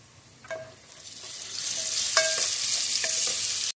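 A steady, loud sizzle of onions and garlic frying in a pan, with a few light scrapes of stirring and no talking.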